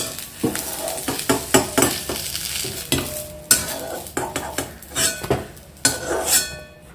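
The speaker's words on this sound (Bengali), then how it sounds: "শিম আর বেগুন আগে একটু ভালো করে আমি ভেজে নেব" Flat beans and eggplant sizzle in hot oil in a wok while a utensil stirs and scrapes the pan, with occasional clinks of metal against the cookware.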